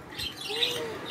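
Pet pigeons kept in pairs, mixed with budgerigars, chirp and twitter briefly at close range with a soft coo, all within about a second.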